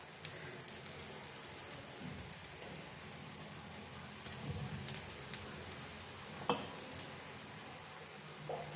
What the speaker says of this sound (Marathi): चांगलं खालच्या साईडनं भाजून द्यायचं. थोडंसं तेल घालू आपण या साईडनं पण.